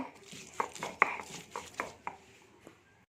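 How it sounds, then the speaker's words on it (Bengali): Garlic is crushed on a traditional grinding stone, giving a series of sharp, close knocks and scrapes at an uneven pace, some louder than others, in a quiet kitchen. "রসুনগুলো বেটে নেব"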